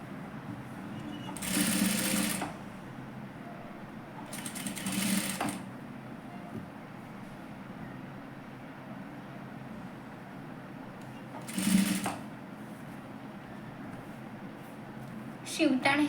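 Sewing machine stitching a net sleeve finish onto main fabric and lining, in three short bursts of whirring stitches separated by quieter pauses, with a last brief burst at the end, close and moderately loud.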